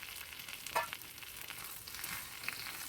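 Crispy bitter gourd pieces with salt in a pan with a tablespoon of oil sizzle faintly while being stirred gently, with a few soft scraping clicks.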